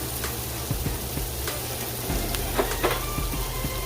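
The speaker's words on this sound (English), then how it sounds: "Gonna let that saute out for a little bit." Garlic sautéing in a pan for a three-meat pasta sauce, giving a steady close sizzle and crackle with occasional sharper pops and faint stirring clinks throughout.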